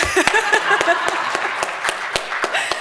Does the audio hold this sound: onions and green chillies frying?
no